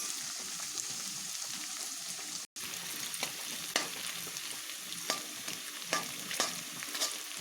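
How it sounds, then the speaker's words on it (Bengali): Taro corms frying in hot oil while being stirred, a soft continuous sizzle with intermittent scraping stir strokes and a brief dropout partway through, no voices. "এই কচুর মুখিগুলোকেও যে করে ভাজা যায়"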